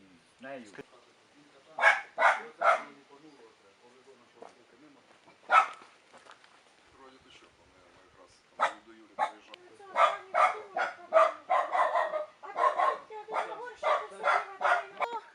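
Several dogs bark and yap in quick irregular bursts, growing busier and more overlapping toward the end, fairly close.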